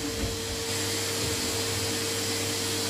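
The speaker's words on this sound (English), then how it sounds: "Okay, use the Hoover then." A Hoover vacuum cleaner runs with a steady, unbroken motor whine and airflow hiss through the whole stretch, with no voices over it.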